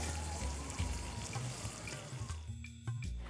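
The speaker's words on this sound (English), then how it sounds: "every time he presses it, there's a sound of water" Fish fries in hot oil in a pan, with water sizzling and bubbling out of it in a dense, continuous crackle that eases near the end, with no talk.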